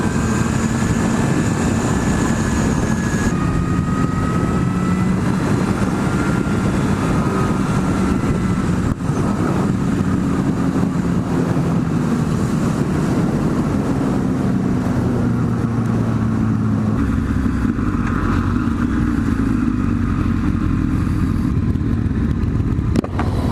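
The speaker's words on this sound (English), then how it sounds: "It's always a fun feeling in fifth gear when you get the front end light on hills." Kawasaki ZX-10R sport motorcycle riding in fifth gear on a hilly road, engine roaring loud and steady with rising and falling pitch under heavy wind rush.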